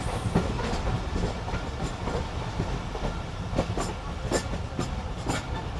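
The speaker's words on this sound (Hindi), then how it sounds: "और इधर हमारी ट्रेन अप्रोच बना रही है रोड़ी जंक्शन पर।" Aboard the Khyber Mail as it approaches Rohri Junction, a steady, close rail rumble carries regular clickety-clack wheel beats and occasional sharper clanks.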